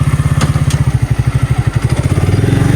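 An Alpha motorcycle engine, still in its break-in period, starts up and settles into a steady, rapid idle thump with a few mechanical clatters, close and loud.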